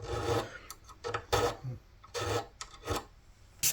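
Fine grit sandpaper rubs along the fingerboard of an Orangewood acoustic guitar under repair for a broken neck, a series of close, dry rasping strokes with short pauses between them.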